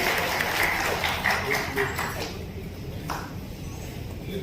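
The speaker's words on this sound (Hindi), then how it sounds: "एक बार जोरदार तालियां हो जाए।" Applause from an audience at an honorary doctorate award ceremony, busy and uneven at first, then thinning and fading to a lower level by the end.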